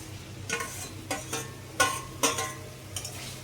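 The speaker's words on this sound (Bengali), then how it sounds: "এবার এর মধ্যে আমি দিয়ে দিচ্ছি ভেজে রাখা মাশরুমটা।" Fried mushrooms tipped into sautéed spices in a pan, giving about five quick, close stirring scrapes with a soft sizzle, set against a steady low kitchen hum.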